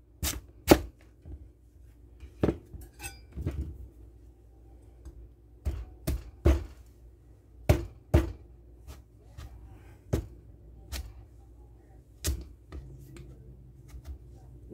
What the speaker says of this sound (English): So we're going to cut this into pieces.